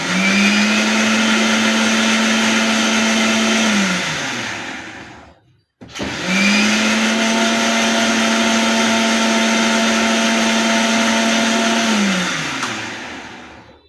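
A mixer grinder grinding mint leaves with a little water whirs loudly at high speed for a few seconds, stops briefly, then runs again in a second long burst.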